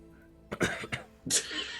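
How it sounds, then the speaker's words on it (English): A single person coughs sharply, with a couple of harsh bursts followed by a rougher, breathy hack, close and fairly loud against a quiet background. "I coughed"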